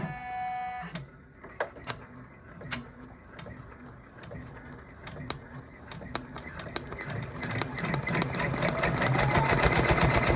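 An embroidery machine stitches an applique onto a shirt, starting with a short tone and then settling into a rapid, even mechanical clatter that grows louder and denser toward the end.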